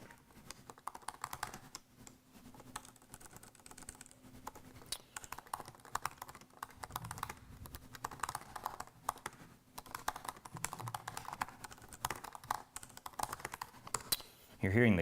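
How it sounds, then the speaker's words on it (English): Computer keyboard keys clatter in rapid, irregular bursts while someone types an all-caps severe weather message during live tornado coverage, with a voice talking over the typing throughout. "You're hearing the keys in the background there as I type."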